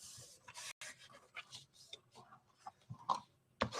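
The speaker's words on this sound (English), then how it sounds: "now I'm simply going to fold and burnish on my score lines" Cardstock for a treat box being folded along score lines and burnished flat, a run of close, dry rubbing and creasing scrapes with short sharp taps, fairly loud and with no talking.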